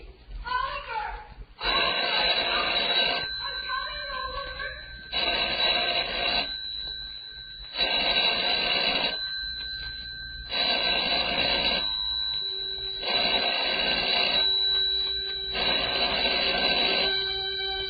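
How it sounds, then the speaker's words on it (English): A telephone rings in repeated bursts, about seven rings with short silent gaps between, clear and steady with nothing else heard. "Telephone ringing in an empty house."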